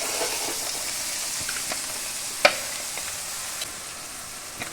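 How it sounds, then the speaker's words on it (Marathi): Onion and asafoetida fry in hot oil for an egg curry, a steady close hiss of sizzling with occasional crackles and one sharp pop midway, no voices. "आता आपण हिंग घालून घेऊया, कांदा घालून घेऊया।"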